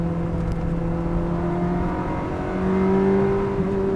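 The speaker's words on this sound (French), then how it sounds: "Vous entendez les petits coups de gaz quand je rétrograde?" Ferrari 360 Modena engine heard from inside the car while downshifting, a steady mechanical hum that jumps to a sharp, brief throttle blip partway through before settling again.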